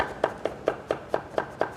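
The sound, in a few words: knife julienning zucchini into 0.2 cm strips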